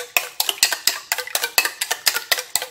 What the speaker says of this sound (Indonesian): Lalu ini saya aduk. Diaduk sampai gulanya larut terlebih dahulu ya.